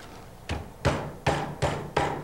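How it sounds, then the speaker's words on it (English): Several heavy thumps of a meat mallet pounding beef thin, coming about every half second against a quiet room hum, no talking. "Pound the beef."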